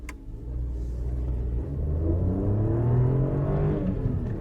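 A small car with an odd idle accelerates hard during performance testing. The engine drones loud and close, its rising pitch climbing steadily through the gear with a low rumble underneath, and no one speaks.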